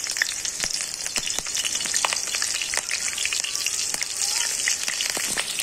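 Green chilies sizzle as they go into a pan of frying bitter gourd, a steady loud crackle of hot oil with scattered sharper pops throughout.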